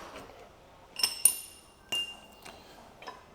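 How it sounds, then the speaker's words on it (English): A rear axle slides out of a Ryvid Anthem motorcycle's rear wheel, giving a few sharp metallic clinks and taps spaced across a few seconds, fairly close and otherwise quiet. "Now carefully pull the rear axle through"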